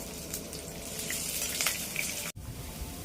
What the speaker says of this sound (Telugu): ఇప్పుడు వీటన్నిటిని బాగా వేపుకుందాం